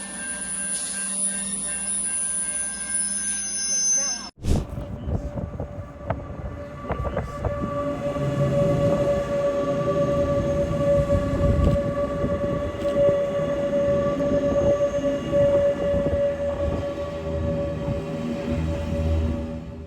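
A train crosses through a station, first as a loud tonal blast, then as a long, steady rumble with wheel clatter and a sustained squealing tone as it passes close by.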